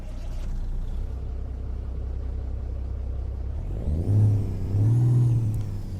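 A chipped Cummins N14 diesel in a Peterbilt 359 truck from American Truck Simulator, a steady low engine drone that swells into louder revving bursts near the end, with no talk.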